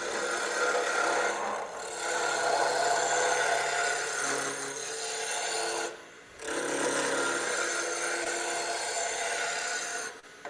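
A lathe gouge cuts a spinning wooden ladle, giving a steady, close rasping hiss that runs almost without a break and drops out briefly twice as the tool lifts off the wood.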